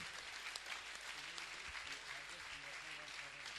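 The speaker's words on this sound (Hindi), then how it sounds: "एक बार जोरों से तालियां तो दीजिए" Applause from a large gathered audience at a Jain religious discourse, a dense continuous wash of clapping filling the whole stretch with faint voices mixed underneath.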